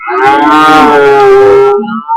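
A cow at a cattle market lets out one long, loud, close moo lasting nearly two seconds, followed by a short lower grunt.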